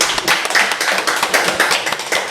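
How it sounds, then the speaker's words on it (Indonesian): A small indoor audience claps at a casual talk gathering, lively, uneven hand claps close by, loud and continuous with a few sharper individual claps standing out. "Tepuk tangan buat Dery Wardana."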